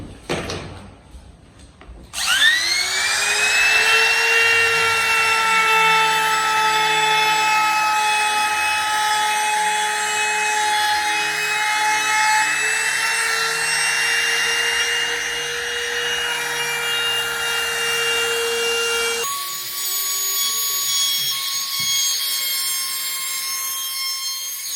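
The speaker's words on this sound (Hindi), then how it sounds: "अभी ट्रिमर से कैसे करनी है वो भी बता देता हूँ" A handheld electric trimmer routs along the edge of an acrylic laminate sheet on wood, a loud, steady high-pitched whine with grinding texture running for around twenty seconds before the tone changes near the end.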